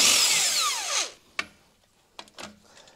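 Impact wrench on the axle nuts of a 2020 Keystone Montana fifth wheel trailer, a loud whirring burst that winds down, followed by a few sharp metallic clanks and rattles nearby.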